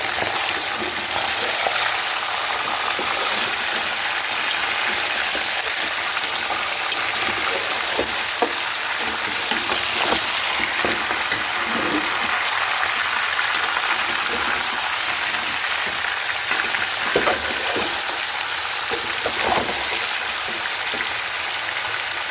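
Beef sizzling and frying in a pot for nihari, a loud, steady hiss of hot oil and crackle with occasional stirring clicks, continuous and close.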